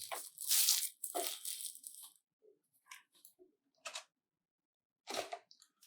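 A Feker K75 mechanical keyboard with a screen is lifted out of its packaging, with close crinkling and rustling of wrap in a few short bursts separated by quiet pauses.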